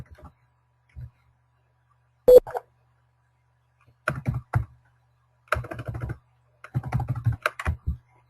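Typing on a computer keyboard while entering a tax ID during QuickBooks company setup, heard as close clusters of clicking keystrokes in short bursts separated by quiet pauses.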